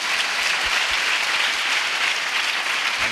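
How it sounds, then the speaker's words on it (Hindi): A church congregation at a Hope Prayer Center peace festival in Raipur claps for Jesus, steady dense applause filling the whole stretch at even loudness, with no voices rising above it. "क्या हम सब मिलके यीशु के लिए ताली बजा सकते हैं?"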